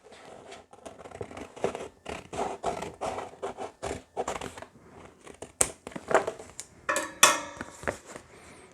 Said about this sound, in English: Once that's finished, we can cut the section of vinyl out.